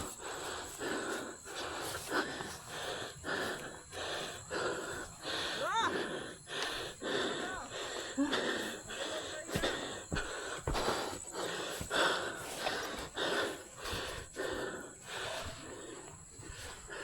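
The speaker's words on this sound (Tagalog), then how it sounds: "Ako parang hingal ako agad." Heavy, rhythmic panting breaths, loud and close, repeat steadily for about seventeen seconds after a summit climb, each gasping inhale and exhale sharp and raspy, with faint wind behind.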